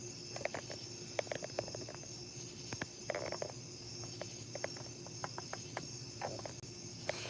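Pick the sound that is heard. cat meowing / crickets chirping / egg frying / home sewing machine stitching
crickets chirping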